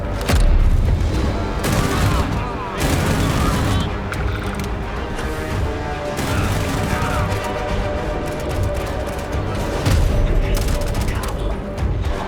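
Gunfire from Starfield gameplay footage, with dense, loud volleys of shots and booming impacts layered over a constant musical and mechanical bed, some pulses standing out above the mix.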